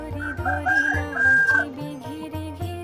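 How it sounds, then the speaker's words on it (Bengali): A rooster crows repeatedly on a morning in a hillside Adivasi village in the Dooars, with drawn-out cock-a-doodle-doo calls rising and falling and standing clear and close over faint background farm sounds. "মোরগ ডাকছে।"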